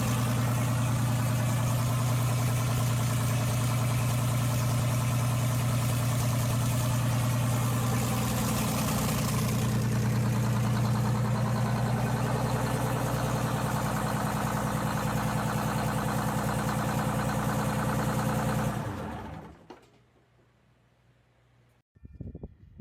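Detroit Diesel 6-71 marine diesel engine, freshly rebuilt, idling loud and close with a steady low drone and vibration for most of the stretch, then cutting off abruptly into near silence.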